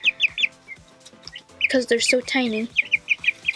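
A chicken with dark tail feathers, kept in a garden, makes quick high chirps and clucks in bursts while a person talks over them.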